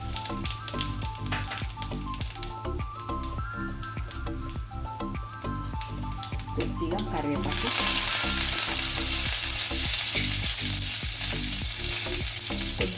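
Hot oil frying in a pan for a bitter gourd dish, continuous loud crackling sizzle with rapid stirring clicks that swells noticeably partway through as something hits the oil, with no talking.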